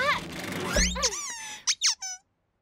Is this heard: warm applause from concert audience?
no